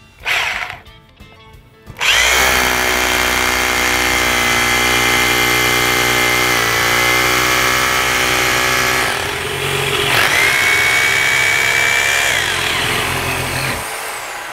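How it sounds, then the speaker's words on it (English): A carbide-tipped drill bit bores into concrete while a saw cuts through a bolt, giving a loud, steady power-tool whine with a harmonic drone that runs for about twelve seconds after a short burst of handling noise. "You can cut that bolt and I'll drill into the concrete."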